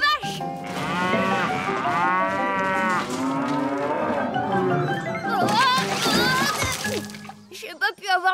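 Cows moo in long, loud, drawn-out calls, with several overlapping lowing voices close by, in a cartoon setting.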